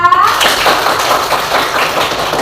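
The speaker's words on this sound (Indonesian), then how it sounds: "tepuk tangan buat Anissa" Classroom students clapping for a classmate, a short burst of brisk, close clapping from a small group that follows a brief tonal sound at the start.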